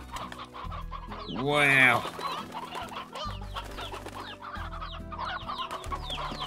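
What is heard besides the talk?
chickens and rooster clucking in Slime Rancher video game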